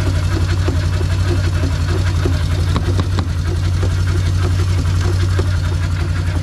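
A Polaris Trail Boss ATV engine runs steadily in the snow with a low droning hum and a rapid, uneven ticking rattle from a possible clutch problem, loud and close throughout.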